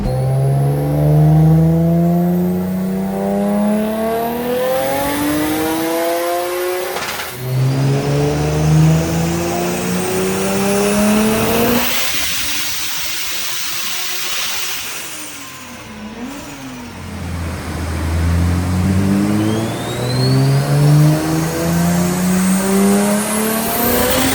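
A powerful 700+ horsepower drift car engine revs hard again and again, rising and falling in pitch with brief tire squeals, loud and close, with no talking.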